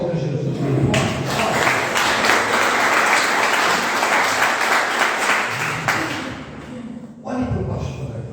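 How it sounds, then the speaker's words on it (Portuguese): A church congregation applauds Jesus loudly, dense sustained clapping filling the room for several seconds, briefly fading then picking back up near the end. "Você pode aplaudir a Jesus bem forte?"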